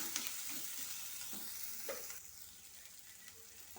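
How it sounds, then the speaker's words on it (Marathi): Garlic sizzling in hot oil in a pan while frying for methi paneer, a soft continuous crackle and hiss with faint stirring scrapes, close and quiet. "आता टाकत आहे लसण."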